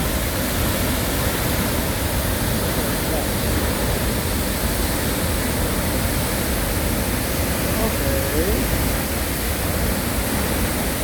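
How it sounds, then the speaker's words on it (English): The Arenal waterfall at La Fortuna pours down in a continuous, loud, even rushing roar that stays constant throughout. "your heart with the sound of this waterfall"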